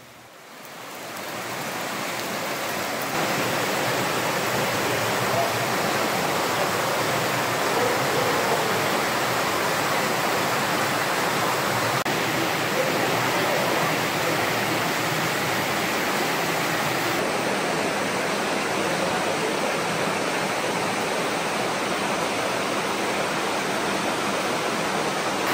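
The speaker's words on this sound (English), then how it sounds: "Just upstream, this creek disappears into the hillside." A forest creek in the Daniel Boone National Forest flows just before vanishing into a hillside, a steady, loud, broadband rush of water that swells in over the first seconds and then holds even and unbroken throughout, with no voices.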